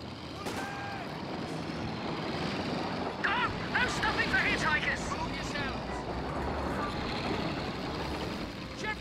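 Bren gun carrier driving off in Company of Heroes 2, a steady tracked-vehicle engine rumble with clanking underneath, continuous and moderately loud, with brief voice callouts over the middle.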